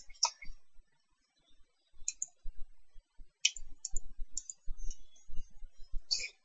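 A few sharp, close clicks, like a button or mouse being pressed to start a live radio broadcast, come sparsely over about six seconds with quiet gaps and faint low thumps between them.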